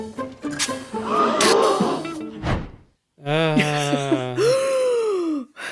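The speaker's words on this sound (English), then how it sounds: "They all gasp because she chops his head off at the end." A group of people gasps in shock at a beheading scene in a TV comedy episode. Several short, breathy voiced gasps and groans come close together, then a single drawn-out rising-and-falling vocal cry, followed by silence.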